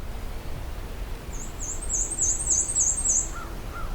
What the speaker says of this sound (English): bright and cheery black and white warbler.